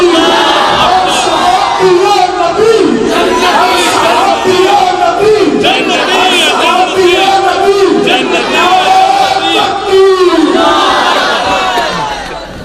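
A large crowd at a religious gathering chants "Nara-e-Takbir" in loud, rhythmic unison, repeated shouted phrases rising and falling together, close and forceful throughout.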